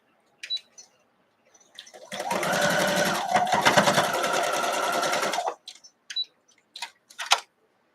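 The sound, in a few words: sewing machine stitching a quilt block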